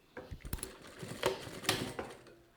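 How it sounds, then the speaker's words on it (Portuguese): Sewing machine stitching fabric for a pencil case, a faint, close run of quick mechanical clicks and taps lasting under three seconds. "E a gente vai costurar aqui de novo."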